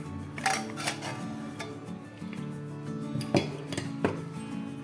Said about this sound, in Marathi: आता इथे कुकर थंड झालेला आहे आपण उघडून बघूयात